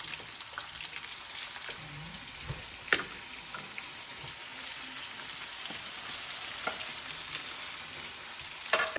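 Cabbage fries and sizzles steadily in a pot while being stirred for a southern cabbage dish with sweet potatoes and gizzards. A few sharp clinks and scrapes from the spoon rise above the constant frying hiss.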